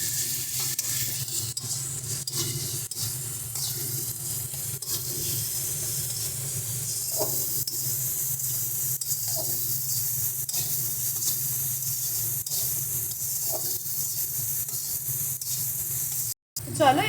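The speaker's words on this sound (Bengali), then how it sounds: "সমস্ত কিছু দিয়ে ভালো করে মশলাটাকে আমরা কষিয়ে নেব।" Spiced masala for a tomato fish curry with small fish sizzles steadily in a pan while it is stirred, a continuous close hiss with faint scraping, and a person talks faintly over it.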